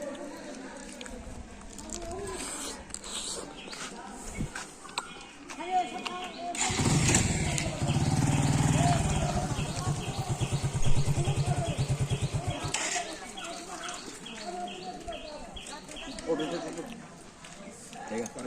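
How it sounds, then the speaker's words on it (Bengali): A motorcycle engine starts and runs on a village road, a loud close putter and rumble in the middle, with people talking before and after. "চাবি ছাড়াই বাইকটা আজকে চলতেছে"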